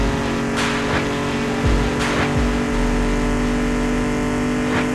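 A race car engine roars steadily at full throttle in the Mr Racer driving game, a loud continuous drone with a few brief gear-shift blips, and no voices.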